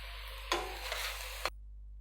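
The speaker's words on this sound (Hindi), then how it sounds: "1 मिनट के लिए इसको भी फ्राई कर लेंगे कीमे के साथ" Minced meat with garlic paste frying in a pan, a steady close hiss of sizzling that swells for about a second between two sharp stirring clicks, then cuts off to near silence.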